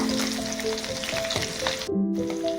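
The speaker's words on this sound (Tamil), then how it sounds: "இந்த அளவுக்கு வெங்காயத்தை நல்லா வதக்கி எடுத்துக்கோங்க." Small shallots fry in oil with vadagam for a traditional fish kulambu, a loud, close, steady sizzle with occasional stirring scrapes and a short break in the crackle.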